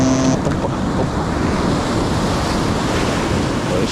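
Ocean waves break and surge on a rocky fishing shore, a loud continuous wash of surf with wind buffeting the microphone throughout.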